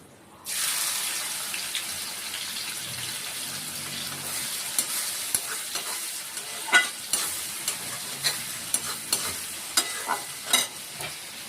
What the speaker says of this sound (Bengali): পেঁয়াজটাকে আমরা হালকা লাল করে ভেজে নেব।